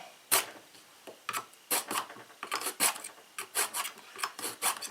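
A blade with nicks in its edge scraping through a Smith's knife sharpener in quick, uneven rasping strokes, each a short bright grind, close and alone.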